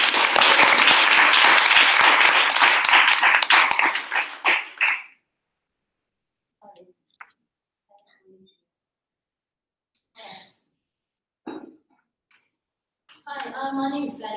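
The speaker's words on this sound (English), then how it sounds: "Let's give her a round of applause." Audience applause for a presenter at a React coding capstone presentation: a dense burst of clapping for about five seconds, then it stops, leaving only faint scattered noises.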